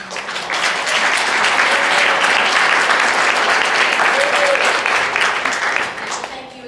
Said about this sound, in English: If we can first give a round of applause about the amount of work